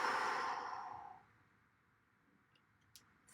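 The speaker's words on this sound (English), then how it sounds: "Take a deep breath of air. Hold it for a count of 3 and repeat" A long, audible exhale of a deeply held breath fades out over about a second, followed by near silence with a few faint clicks.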